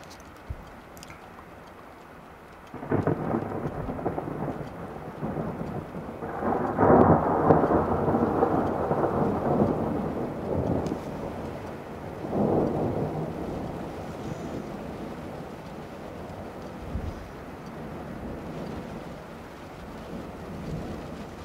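Thundersnow near Chimney Rock National Monument, thunder rumbling during mixed rain and snow: a low roll builds, swells into long heavy rumbles, then fades to a quieter rumble over steady wind and precipitation noise.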